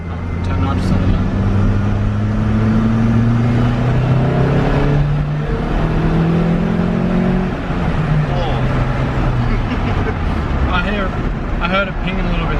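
A Toyota Starlet with a 4EFE engine on nitrous roars loudly nearby, its pitch climbing and sweeping through repeated revs under a constant mechanical drone.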